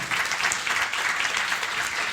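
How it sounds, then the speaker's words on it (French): A conference audience applauds at the close of a scientific expertise session, a steady, even wash of many hands clapping throughout. "On peut vous applaudir."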